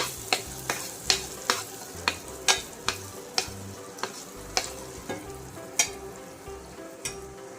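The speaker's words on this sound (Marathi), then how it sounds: "आता आपण यामध्ये मूग डाळीचं मिश्रण घालूया। मूग डाळीचं मिश्रण घालून छान असं याला एकजीव करून घ्या।" Moong dal halwa mixture with roasted dry fruits is stirred in a pan, a soft steady sizzle punctuated by a regular series of sharp spatula scrapes and taps, roughly two per second, close and clear with no talking.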